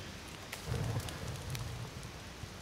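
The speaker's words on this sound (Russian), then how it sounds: "Видишь, дождик пошел" Rain sets in during The Forest, a faint steady patter of drops with a few sharper taps against a quiet background.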